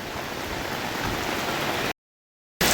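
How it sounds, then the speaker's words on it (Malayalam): Dense, steady heavy rain pours down at a new bridge on the NH966 highway at Angadipuram for a couple of seconds, cuts to silence briefly, then the downpour returns. "ഉദ്ഘാടനത്തിന് മുമ്പ് തന്നെ നല്ല മഴ"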